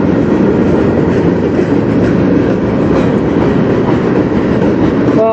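A CN freight train rolls past on the Strathroy Subdivision near Sarnia, Ontario, a loud, steady rumble of cars and wheels running close by without pause and with no voices.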